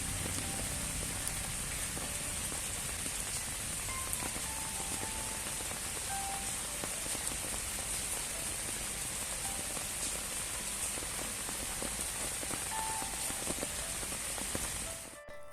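Steady rain falls continuously on a Friday, a dense even hiss of drops with a few faint scattered ticks, filling the whole stretch without any voices.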